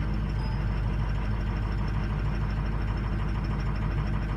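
An engine idles steadily after being fired up, a continuous close mid-low drone with an even rhythmic pulse and no voices over it.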